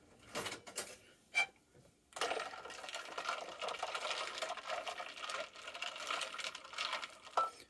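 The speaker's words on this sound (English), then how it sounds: "I'll give it a stir" Cold coffee diluted with ice is stirred in a cup. A few quiet, sharp clinks come first, then a spoon keeps rattling the ice cubes in a steady, close, soft clatter.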